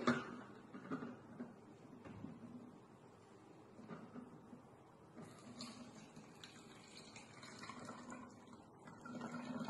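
Quiet splashing and trickling of water being poured into a plastic bottle, with a few soft knocks and a brighter, fuller gurgle toward the end.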